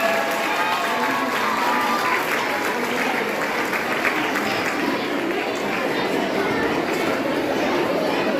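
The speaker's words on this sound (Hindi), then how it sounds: "जोरदार तालियों से सबका अभिनंदन है।" Schoolchildren and parents applaud at a school hockey program's cycle distribution event, a steady, moderately loud patter of clapping with chatter mixed in, lasting several seconds.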